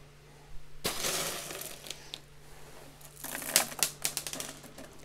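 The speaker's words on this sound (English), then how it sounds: "I'm just going to top it up with some more clay balls here" Hard clay pebbles pour and rattle into a Kratky hydroponic container in a grow tent, a loud clattering rush of small pellets starting suddenly, easing off, then a second burst of scattered clicks and rattles.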